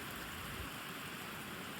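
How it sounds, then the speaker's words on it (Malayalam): Heavy rain in a Gulf country pours down as a dense, unbroken roar that stays level and close through the whole short stretch, with no voices. "മഴ കൂടിക്കൊണ്ട് പോകുന്നുണ്ട് മോനെ"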